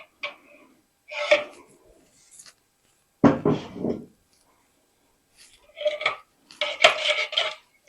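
Ingredients for a yeast-free khachapuri dough (sugar, salt and oil) mixed in a bowl, with intermittent bursts of clinking and scraping from a spoon against the bowl, separated by quiet pauses.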